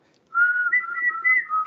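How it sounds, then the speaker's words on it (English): A person whistles a sheepdog command, a clear, fairly loud tone with several quick pitch steps lasting under two seconds, heard alone. "Can you whistle? We'll give it a go."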